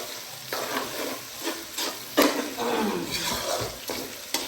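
Meat searing in a hot pan with steady sizzling and frying, broken by several sharp clatters and scrapes as it is stirred, close and moderately loud with no talking.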